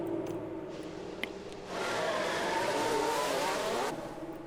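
Racing cars in a Formula 1 style video game pull out of the pits, engine drone swelling into a loud, sustained roar with tyre noise that fades near the end.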